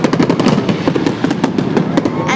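New Year fireworks crackle and pop in a rapid, dense barrage of sharp bursts, loud and continuous, like firecrackers going off in quick succession.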